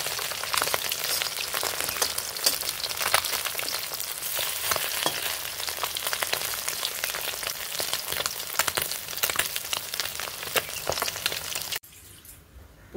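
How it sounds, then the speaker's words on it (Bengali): Cumin seeds and bay leaf fry in hot oil for a fish chochchori, giving a loud, continuous crackling sizzle with dense pops that stops abruptly near the end, leaving a faint hiss. "এখন আমি তেলে জিরা সম্বারটা দিয়ে দিয়েছি, একটু তেজপাতা দিয়ে তরকারিগুলো ঢেলে দিচ্ছি।"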